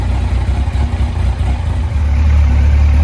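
A 2001 Yamaha FZ1 four-cylinder engine idles after a carburetor rebuild, giving a steady loud low rumble with an uneven pulsing texture that stays close and constant throughout.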